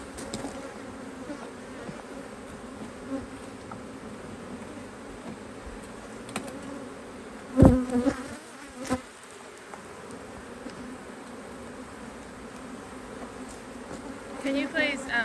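Honey bees buzz continuously around an open hive recovering after swarming, a dense close drone with a few handling bumps and knocks partway through.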